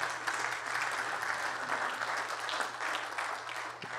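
At a business forum, an audience applauds the stock exchange with a steady, even wash of clapping that sounds distant and fairly faint, with a low hum underneath.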